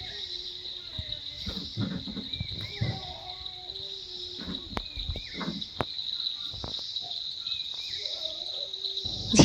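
Crickets chirp in a steady, continuous high trill through hilly country at dusk, with faint scattered knocks, footsteps and distant low voices beneath.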